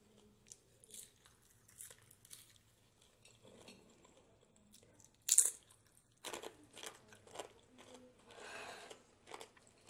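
Crispy fried potatoes are bitten and chewed close to the mic in short crunchy bursts with quiet gaps between them, and a sharp clink sounds partway through.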